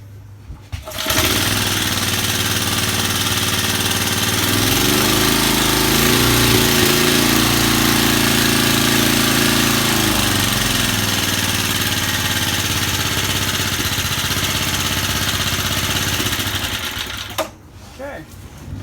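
Vintage Cooper Klipper lawn mower engine running loud and close, a steady buzzing drone with a brief pitch dip midway, holding for about sixteen seconds before cutting off abruptly.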